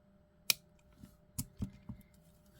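Small scissors trim off part of a beaded jewelry piece, a few sharp close snips spaced irregularly over a couple of seconds in a quiet room.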